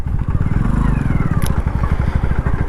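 Close engine throb of a motorcycle ridden in second gear along a main road, a steady fast pulsing drone with road noise and a brief high click partway through.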